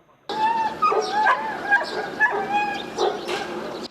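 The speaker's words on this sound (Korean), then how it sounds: "트럭마다 짐칸에 작은 철장들이 가득 쌓여 있는데 그 안에 짐처럼 우겨 넣어진 개들이 큰 소리로 짖어댑니다." Dogs crammed into small wire cages stacked on the beds of one-ton trucks at an open-air dog market bark, yip and whimper loudly and continuously, several animals overlapping at close range.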